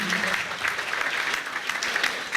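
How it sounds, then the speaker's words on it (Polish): A crowd at a school prom ball claps steadily in a dense, continuous wash of applause, moderately loud, with no break. "Także wielkie brawa dla Was wszystkich."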